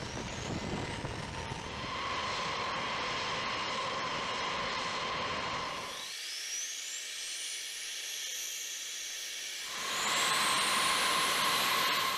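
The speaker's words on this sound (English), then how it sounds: "When activated, these cartridges combust and cause the engine's fan blades to turn." Jet engine of a B-52 bomber being spun up by a combusting explosive start cartridge: loud, steady roaring whine with rising tones, briefly dropping away midway before swelling back louder, with no talk.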